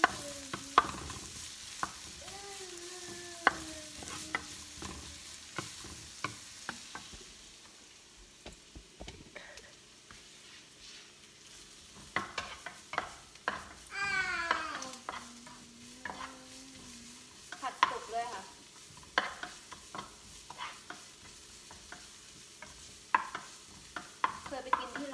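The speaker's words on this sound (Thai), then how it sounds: "ผัดให้เขาสุกหน่อยนึงนะคะ" Onion being stir-fried in a pan for a Thai tom yum shrimp fried rice, with close, intermittent stirring scrapes and clatters over a soft, steady sizzle throughout.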